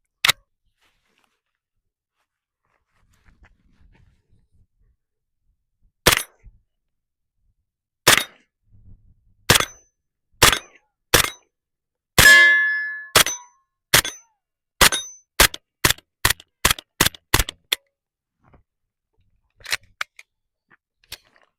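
A series of sharp gunshots from an MP5-style 9mm roller-delayed carbine firing different grain ammunition: scattered single shots, then a quickening run of closely spaced cracks, each short and dry against a quiet background.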